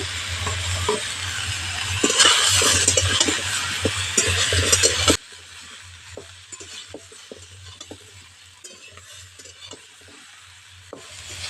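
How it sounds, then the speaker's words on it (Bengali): Eggplant and mixed vegetables for a Bengali chapor ghonto are stirred and lightly fried in a pan, with loud sizzling and scraping for about five seconds before the sound drops to a quieter, steady sizzle with occasional taps. "বেগুনটা দিয়েও সবজির সঙ্গে হালকা করে ভেজে নেব"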